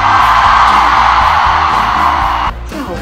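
A large concert audience in Kaohsiung Arena screams and cheers, a loud dense roar of many voices that holds steady and then dips slightly near the end.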